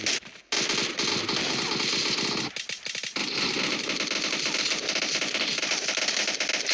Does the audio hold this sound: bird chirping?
no